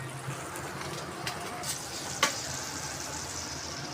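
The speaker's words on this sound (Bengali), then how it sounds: "মশলাটা ভালো করে কষবে।" Beef masala spices fry in a pan while being stirred, giving a low continuous sizzle with a few scraping clicks and one sharper knock, faint and steady.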